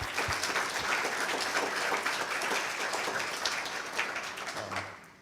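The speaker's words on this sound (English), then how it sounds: "So one more round of applause for all of them." Dense, steady applause from a conference audience at IEPRS 2022, honouring the speakers. The clapping is continuous and fairly close, with no talk over it, and fades slightly at the very end.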